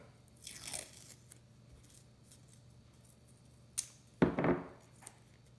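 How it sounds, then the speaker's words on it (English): Scissors snip through paper while shaping a fin for a homemade straw rocket, with a faint snip early on and a sharper, louder burst of crunchy cuts near the end in a quiet room. "I'll cut this into shape"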